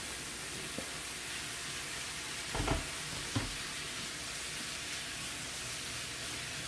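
Peppers sizzle in a pan with mushrooms and onions, a steady, even hiss of frying with a couple of brief clatters as they are stirred.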